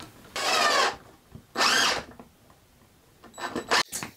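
A power drill drives screws into wooden steps for a chicken coop in two short bursts, close and loud, followed by a few quicker, choppier whirs.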